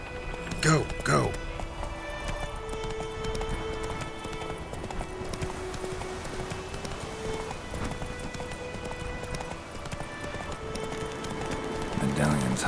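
Rhythmic hoof clip-clop of a horse running in The Witcher 3: Wild Hunt, heard briefly at the start and again near the end, over a steady bed of game music and ambience.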